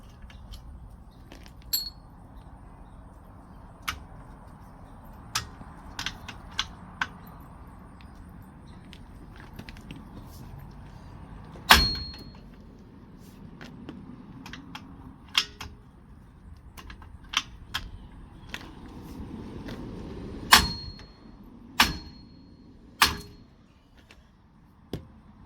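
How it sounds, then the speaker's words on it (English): Brake hardware being taken apart on a 2010-2014 Subaru Outback produces sparse, sharp metallic clicks and clinks of small parts, scattered irregularly over a quiet background, with a few louder knocks. "Let's take apart some of that brake hardware."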